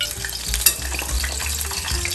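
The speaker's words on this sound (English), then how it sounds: "loud sounds from frying" Pork sizzles and crackles steadily in hot oil, close and continuous, with a brief clink partway through.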